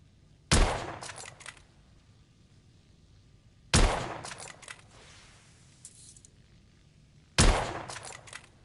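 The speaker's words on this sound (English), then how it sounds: "Recoil is sharp, but manageable." Three single loud gunshots spaced a few seconds apart from a firearm in the Victorian-era shooter game The Order: 1886, each sharp crack followed by a metallic clinking tail, otherwise quiet between shots.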